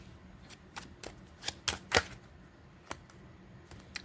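Tarot cards being shuffled close up, a series of crisp riffling snaps and soft flutters with sharper bursts midway, alone in a quiet room.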